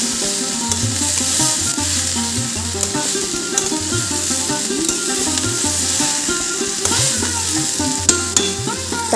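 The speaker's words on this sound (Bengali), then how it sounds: "সুন্দর করে ভাজা ভাজা করে" Vegetables fry in ghee with turmeric, a steady close sizzle broken by the scrape of stirring, continuous for several seconds with no talk.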